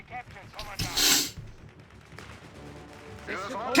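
Nebelwerfer rocket artillery in Company of Heroes 3 firing during a match: a loud burst of blasts around the first second, then rumbling battle noise with a commentator talking over it throughout.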